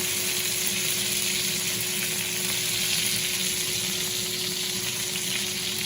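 Chicken thighs fry in butter in a pan, a steady, loud, close sizzle with constant crackling hiss and no talking.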